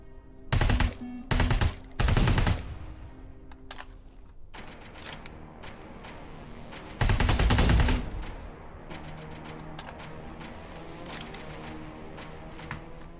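Bursts of automatic gunfire in Terminator Resistance, three short loud volleys at the start and another around the middle, with quieter game ambience and scattered shots in between.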